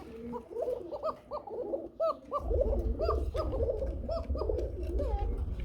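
A pigeon coos repeatedly in short, rolling, throaty phrases close by, joined partway through by a low rumbling background noise that continues under the calls.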